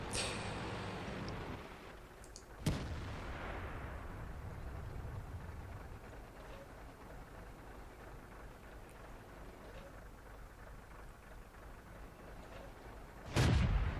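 A tank gun firing in a video game, one sharp heavy boom followed by a long rumbling decay and a low steady engine drone, then another loud shot near the end, with no talking.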